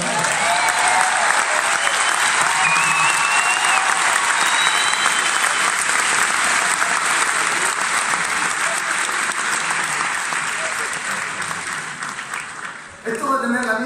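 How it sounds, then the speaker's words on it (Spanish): A crowd at a live rock concert claps loudly and continuously for a drummer. The applause holds full and dense for about twelve seconds, with some cheering mixed in, then dips sharply at the end. "Un fuerte aplauso para él."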